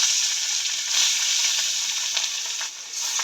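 Katla fish frying in hot oil, a steady bright sizzle with a few small pops and crackles running throughout, close and fairly loud, with no voices.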